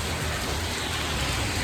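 Heavy rain pours down in Sydney, Australia, a dense, steady wash of drops hitting surfaces, loud and continuous throughout with no voices.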